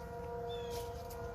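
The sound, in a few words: outdoor tornado siren test heard in the distance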